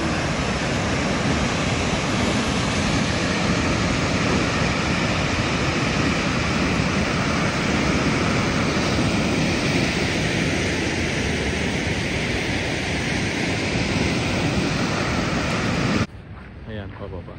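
Steady, loud rush of falling water at Lemrek Waterfalls in a Canadian park, a dense unbroken roar with wind buffeting the microphone, dropping away abruptly near the end.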